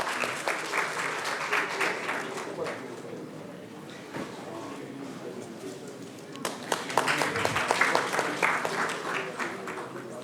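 Audience applause welcoming a guest at a book launch event, sustained dense clapping from a hall crowd that eases and then surges again, with some voices mixed in.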